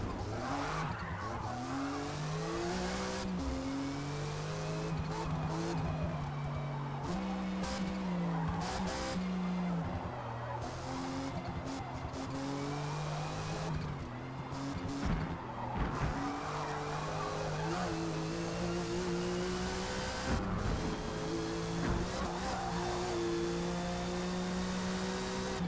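A Porsche 935 race car in a racing video game brakes late, its tires squealing and skidding over a constant loud engine drone with shifting revs, the screech recurring through the run.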